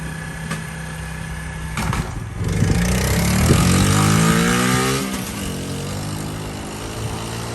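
Small engine of a 1998 Honda Z50 mini motorcycle running close by, rising in a revving sweep then easing back to a steady idle, with a few knocks and clicks over the engine sound.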